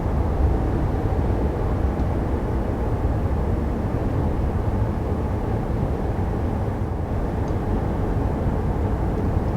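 Inside a 2020 Mercedes GLC 300 cruising at 50 mph, a steady low road and engine hum fills the cabin evenly throughout, with no talk.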